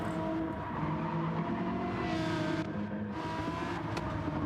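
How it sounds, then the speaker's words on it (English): A Nissan GT-R race car in a racing video game at Spa, its engine revving loudly and continuously with dense, gritty mechanical roar and shifting pitch, no voices. "Love the sound of that GTR."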